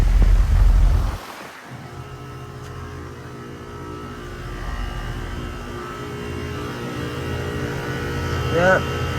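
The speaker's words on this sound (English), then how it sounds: "The best sounding compressor. This fan motor. Goodman scroll." A 2-ton Goodman GSZ14 heat pump from about 2017 runs outdoors on a hot day, its scroll compressor and fan motor giving a steady, close mechanical hum with a brief louder burst at the start.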